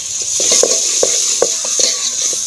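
Onions and potatoes fry in a pan in a Pakistani village kitchen, a steady loud sizzle running throughout, broken by repeated scraping stirs and light clinks of a utensil against the pan.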